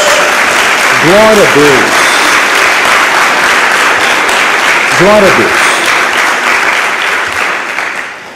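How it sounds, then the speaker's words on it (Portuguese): A church congregation applauds during a sermon, giving a round of applause to Jesus. The loud, dense clapping is sustained and fills the room, and a voice calls out twice over it before the applause slowly fades. "Dê uma salva de palmas a Jesus."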